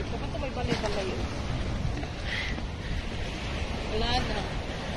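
Steady wash of sea waves and wind along a Kuwait shore, with faint voices in the background throughout.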